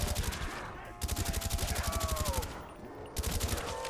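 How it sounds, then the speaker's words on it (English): Rapid bursts of suppressed gunfire in Black Ops Custom Zombies in quick, steady volleys, with short pauses between strings of shots and faint background tones. "The suppressor sounds so clean."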